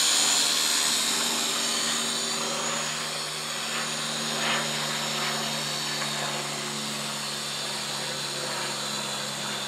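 A steady high-pitched motor whine hums continuously from a Syma X5SW toy quadcopter drone hovering nearby, with faint wind and no voices.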